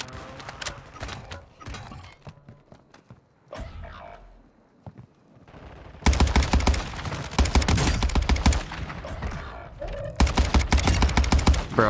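Cronen Squall gunfire in Warzone 2 cracks out in quick automatic bursts, sparse shots first, then loud rapid strings of fire in the second half, with brief voices in the mix.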